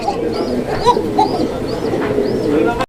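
Pigeons on a farm coo repeatedly in soft rising calls over a steady background hum, with a voice briefly present.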